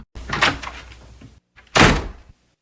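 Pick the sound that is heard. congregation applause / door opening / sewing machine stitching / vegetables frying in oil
door opening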